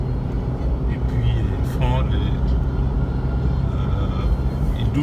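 Cars roll through traffic on Luanda's main roads, a steady close engine and tyre rumble with a brief passing whine and occasional horn-like tones throughout.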